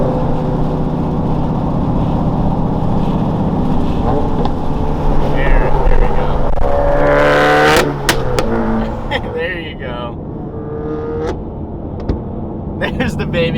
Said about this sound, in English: That car is shooting a crazy amount of flames